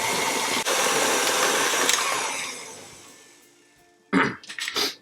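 Stand mixer beating cookie dough made with brown sugar and Crisco whirs loudly and steadily at first, then winds down and fades out, followed by a few short clunks and knocks.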